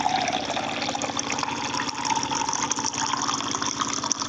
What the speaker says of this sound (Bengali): ও মা বালতি ভরে তো পড়ে যাচ্ছে জল।